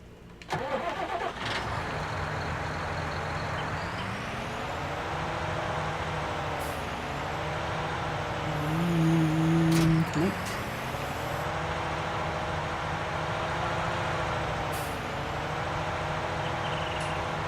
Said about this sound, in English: We'll shut this tractor off and we'll grab this one with the stump grinder.